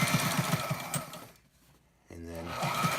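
A Sailrite LSZ-1 sewing machine runs close by in quick rhythmic stitching bursts, falls quiet for a moment, then starts again to back stitch.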